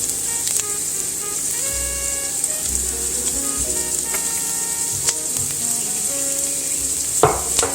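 Chopped onion and coarsely chopped garlic sizzle steadily in a hot pan, a constant close frying hiss with a few sharp clicks and scrapes of stirring, rising briefly near the end.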